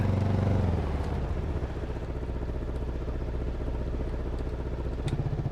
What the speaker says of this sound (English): That is the motorcycle sidecar, or the Zundap.